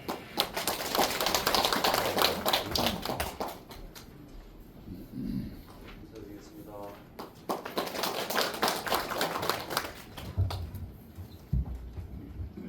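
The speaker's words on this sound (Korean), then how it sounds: "뜨거운 박수로 부탁드립니다" Audience applause at a residents' meeting for an apartment complex in Guri: a dense patter of many hands clapping, a pause with quieter sounds, then a second burst of clapping.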